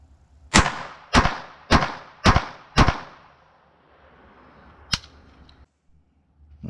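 Five sharp, loud gunshots in an even rhythm from a Taurus PT22 pistol firing copper-plated .22 rounds at close range on a shooting range, followed by a quieter pause and one more distant crack.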